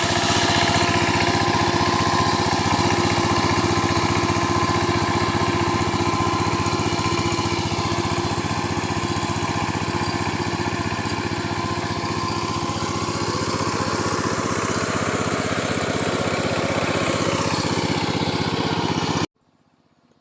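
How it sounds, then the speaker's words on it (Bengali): A power tiller churns through a muddy paddy field being ploughed for winter boro rice, its small engine droning steadily and loudly at close range for about nineteen seconds before cutting out abruptly. "এখানে আমাদের পাওয়ার টিলার দিয়েই হাল করা হয় আমাদের গ্রামে"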